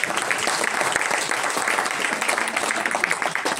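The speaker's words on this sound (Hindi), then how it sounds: "अपने आप के लिए ताली बजाओ।" An audience applauds itself at a talk, a thick, steady wash of clapping hands filling the whole moment without pause.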